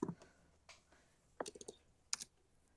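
Scattered plastic clicks from a battery-powered computer keyboard, a few brief clustered bursts of keys separated by quiet gaps, close and fairly soft.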